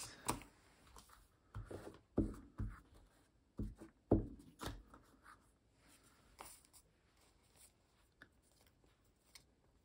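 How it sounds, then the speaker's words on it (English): Coloured paper is torn by hand into pieces for a collage, with short scratchy rips and rustles close by, clustered early and then thinning into quieter handling. "I will measure and tear it off"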